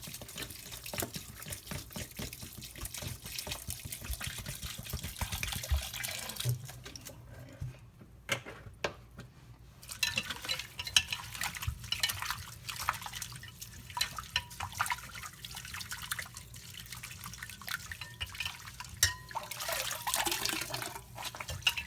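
Water from a bottle of spring water splashes and trickles over Irish moss in a bowl during rinsing, a continuous close wet swishing with dripping, pausing briefly midway before resuming.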